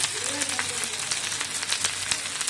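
Okra frying in hot oil while being stirred: a steady, close crackling sizzle with soft scraping stir strokes throughout, with faint talk underneath.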